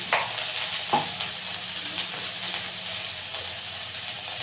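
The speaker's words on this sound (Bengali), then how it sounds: "মশলাটা ভালো করে কষিয়ে নেব" Ground spices, turmeric, chili and cumin powder, fry with chopped tomato, onion and ginger paste in a pan in a village kitchen: a steady close sizzle with a few sharp scrapes and taps of stirring.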